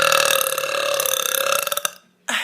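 A person lets out one long, loud, rumbling belch that runs for about two seconds and tapers into silence, close to the microphone.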